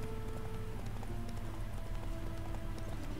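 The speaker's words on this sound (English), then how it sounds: "Spooking my horse." A spooked horse in The Witcher 3: Hearts of Stone video game, with steady clip-clopping hooves close by and a brief whinny, continuous over a low ambient drone with no talk.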